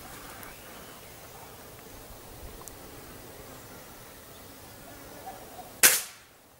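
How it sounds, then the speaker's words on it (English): A single sharp crack from a heavy small-calibre rifle fired at a shooting range, loud and close with a quick decaying tail after several seconds of quiet outdoor hiss. "And it's a heavy rifle, so fire when ready."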